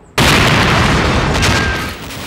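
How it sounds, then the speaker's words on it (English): An explosion destroys the surgery set of the daytime soap Doctors at the Pebble Mill studio building. It starts as one sudden loud boom and becomes a sustained roaring blast that slowly fades. "blowing up the surgery, which was part of our Pebble Mill building"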